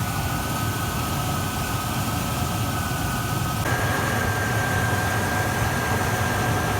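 A Rover SD1 engine idles steadily during carburettor balancing, a loud continuous close-up drone with a constant intake hiss whose tone shifts slightly partway through, with no voices.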